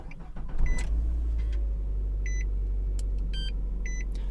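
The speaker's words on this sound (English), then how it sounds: "Insert the working key and start the car." A Nissan Armada from the 2004–2015 era cranks and starts on a freshly programmed spare key, settling into a steady low engine rumble while several short electronic chimes beep over it; no voices.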